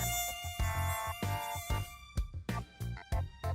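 A male mosquito buzzes in close, thin whining bursts that start and stop in an uneven rhythm, with no voices over it.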